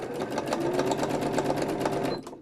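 A sewing machine stitches a fabric gardening journal cover in a steady rapid mechanical whirr of needle strokes, close and clear, then stops abruptly.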